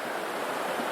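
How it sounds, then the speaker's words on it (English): Ocean waves crash and wash in a steady, broad roar of surf, loud and continuous, with some wind mixed in and no voices. "Check out these waves."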